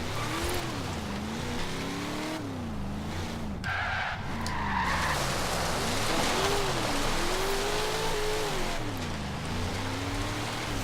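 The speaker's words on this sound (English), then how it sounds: "Oh, I'm sliding, baby." Tires screech through a long skid of a car in the racing video game Forza Horizon 3, engine tone rising and falling beneath a steady hiss, loud and continuous throughout.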